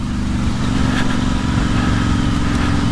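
A Royal Enfield Interceptor 650 motorcycle fitted with a Short Shot exhaust rumbles steadily at idle, a close, loud, low throbbing burble with a rich tone and slight rev fluctuations.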